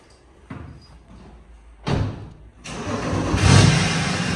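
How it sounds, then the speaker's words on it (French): A BMW 325d E90 diesel engine, Stage 1+ tuned with a full stainless-steel exhaust, cranks twice before catching, then settles into a loud, rough rumble that holds steady as it idles. "Petit démarrage. Et c'est parti."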